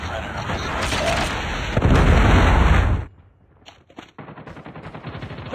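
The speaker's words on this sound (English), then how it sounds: "Friendly Predator missile down." Predator missile explosion in Call of Duty Mobile during a Havoc match on Sawmill, a loud sustained blast amid gunfire that cuts off abruptly, followed by quieter battle sounds.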